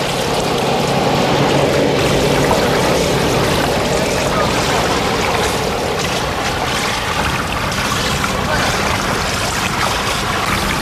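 A Ukrainian hydrofoil passenger boat on the Danube passes by with a loud, continuous engine drone and rushing water, a steady broadband roar that stays close for the whole stretch.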